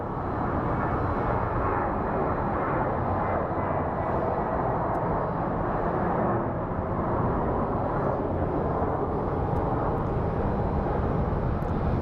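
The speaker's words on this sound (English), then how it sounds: "I got excited because I thought we had an Embraer coming in," An Airbus A319 airliner arrives at Phoenix Sky Harbor with a sustained, heavy engine roar that holds steady from mid-distance for the whole stretch, with no voices over it.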